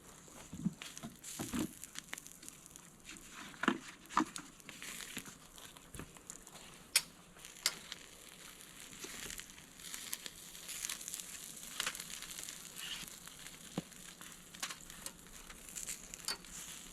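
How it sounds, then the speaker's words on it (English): Aluminium foil being opened over shrimp cooking at a campsite, quiet intermittent crinkling and rustling with a few sharper crackles, faint and close, over a soft background sizzle. "we'll open up that foil and see how those shrimp look"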